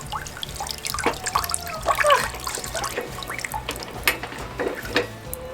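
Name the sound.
water draining from laundry in a hand-crank wringer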